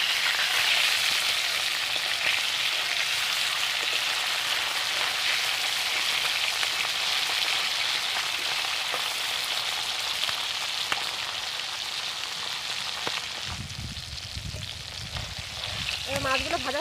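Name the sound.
hilsa fish frying in oil, being flipped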